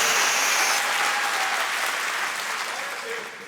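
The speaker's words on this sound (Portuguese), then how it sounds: "pode dar salva de palmas" Church congregation applauding loudly and steadily, a dense wash of many hands clapping that fades slightly toward the end, with cheering voices mixed in.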